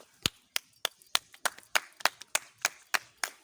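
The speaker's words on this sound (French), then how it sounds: "quand on pose la pierre angulaire, on peut aussi applaudir" People at a cornerstone laying ceremony on a ministry construction site clap in a sparse, uneven rhythm, about a dozen sharp, close claps with brief gaps and no talk.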